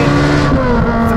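Ferrari 458 Speciale fitted with a Novitec exhaust pulling hard on an open road, its engine roaring loud and close with a sustained, rising high-rev tone throughout.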